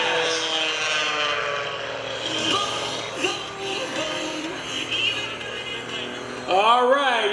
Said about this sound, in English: he's going to turn the airplane around here, and he's going to set up for his landing